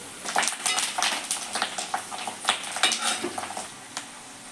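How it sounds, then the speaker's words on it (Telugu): Garlic, fenugreek seeds, mustard seeds, a pinch of asafoetida and curry leaves fry in hot oil as a tempering for amla pickle; a metal spoon clinks and scrapes against the pan in quick irregular strokes over a soft sizzle. "ఇప్పుడు ఇవన్నీ వేగుతున్నాయి కదా"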